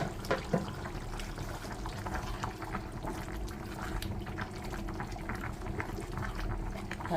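Egusi soup with meat boiling in a pot, a constant low bubbling and gurgling with small pops, close and fairly quiet with no talking.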